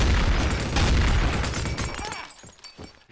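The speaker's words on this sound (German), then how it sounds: "Bombe!" A bomb explodes in the video game Trouble in Terrorist Town, a loud, close, rumbling blast that fills the first two seconds and then fades out with crackling debris.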